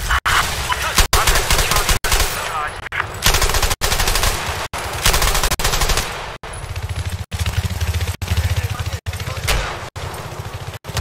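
Rapid, loud gunfire from a first-person shooter game fills the whole stretch in sustained automatic bursts broken by brief gaps, with no pauses of silence between volleys.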